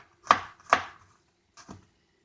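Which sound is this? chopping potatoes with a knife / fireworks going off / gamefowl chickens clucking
chopping potatoes with a knife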